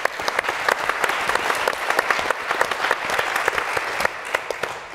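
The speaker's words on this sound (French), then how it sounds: "Une bonne main d'applaudissements pour Daphné." An audience at a French-language business round table gives a steady, full round of applause for about five seconds, with dense overlapping claps and no voices over it.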